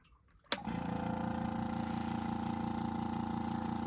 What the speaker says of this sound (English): You can see the vacuum pulling air and a little bit of water back there against there